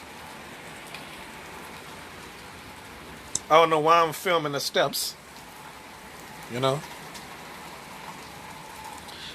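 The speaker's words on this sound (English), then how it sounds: "it's raining even more harder now" Steady rain falls outside on a stormy day, a constant soft hiss running through the whole stretch while a person talks briefly in the middle.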